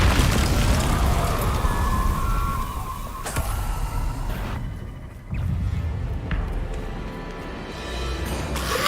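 Confringo blasting spell in the fantasy game Hogwarts Legacy, booming in a loud explosion with several sharp bursts and rumbling debris, followed by a second hit and lingering dense game noise.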